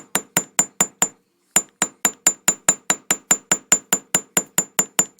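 Metal earrings hammered to add divots, a rapid run of sharp, ringing metallic strikes in an even rhythm with one short pause, close and loud with no talking.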